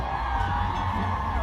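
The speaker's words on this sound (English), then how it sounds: "I'd like to hear all the St Kitts ladies scream out for me." A crowd of women at the St Kitts and Nevis Music Festival screams and cheers at a reggae concert, a loud, sustained roar of whoops across the whole moment.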